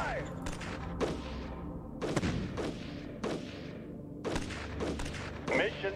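Video game gunfire from a Shadow Empire battle: repeated bursts of shots and booming volleys at roughly one-second intervals over a steady rumbling bed, with some speech mixed in.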